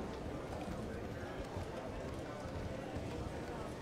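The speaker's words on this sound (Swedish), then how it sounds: "Hästar." Rapid clip-clop of galloping horses' hooves in a horse race playing in a casino, a busy continuous rhythm over crowd noise and a steady background din.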